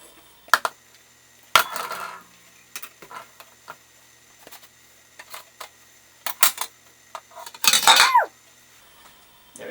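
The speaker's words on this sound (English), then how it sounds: "you take the knife and you just want to just wedge the cake away from the edges" A knife scrapes and taps around the metal pan edges to loosen a matcha marble sponge cake, giving scattered clinks and metallic scrapes, with one longer, louder scrape near the end.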